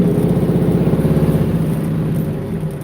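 A smoky truck's engine roars loudly and steadily up close, its deep throbbing rumble pulsing evenly and easing slightly toward the end, with no voices.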